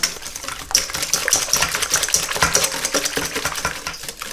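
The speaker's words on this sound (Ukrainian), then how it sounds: "Тепер я вливаю яйця у миску і буду все збивати вінчиком." Hand whisk beating eggs with a pinch of salt in a bowl, brisk rhythmic metallic clicks and scrapes of wire against the bowl, close and continuous with no talking.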